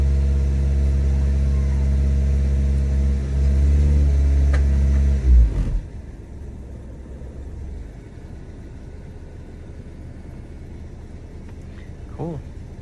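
A Mazda 3 engine runs at a raised, steady hum with a slight surge, then abruptly drops to a much quieter idle after about five seconds, with light background noise afterward.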